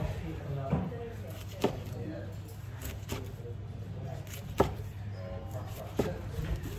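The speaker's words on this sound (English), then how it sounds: "And then we have to cut into 5 pieces." A knife slicing through a rainbow sushi roll, five or six distinct sharp cutting thuds spaced about a second apart over a low steady hum.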